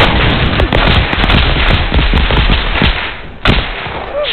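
Rapid gunfire in the Roblox shooter Unit: Classified, a loud, dense stream of popping shots from several weapons that crackle continuously, breaking briefly before a final burst.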